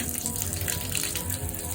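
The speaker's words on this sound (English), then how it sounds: "let it run until the water kind of runs out." Water runs steadily from a tap in a house basement while the plumbing drains with the supply valve shut off, a faint, even rushing flow with no talking.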